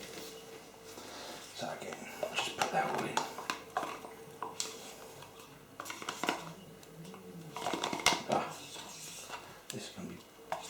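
Thick double cream spooned into a bowl for a no-bake cheesecake, soft scraping and clinks of spoon against the bowl in irregular bursts, close and quiet beneath someone talking.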